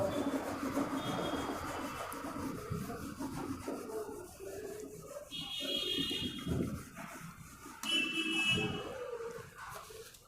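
Rubbing sounds from a board being erased by hand in a classroom, with a steady scraping and brushing texture that swells and fades in strokes throughout, loud and close with no talking.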